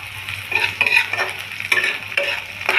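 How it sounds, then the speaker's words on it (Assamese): Steady crackling sizzle of onion, garlic and chili frying in hot oil, with repeated scraping strokes of a spatula stirring in the pan, close and fairly loud. "তেল গৰম হৈ গ'ল। আৰু এতিয়া পিঁয়াজ, নহৰু আৰু কাটি থোৱা জলকীয়াখিনি মই দি দিলোঁ।"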